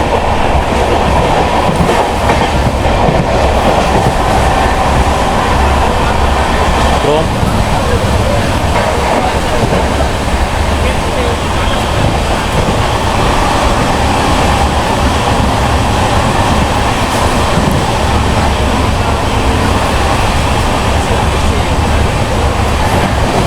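The Pallavan Express passenger train from Karaikkudi to Chennai Egmore rumbles loudly and continuously along the rails with steady clatter, heard from inside a carriage.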